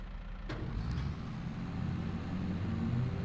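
A tractor engine in a farming video game idles and slowly builds as its PTO mower spools up, a steady low drone growing gently louder, with one sharp click near the start.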